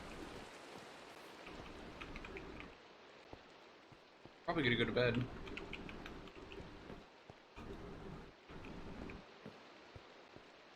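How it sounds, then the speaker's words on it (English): Steady rain pours in a Minecraft game world, a continuous hiss running through the whole stretch with a louder burst midway, while a person talks over it. "It's still raining though."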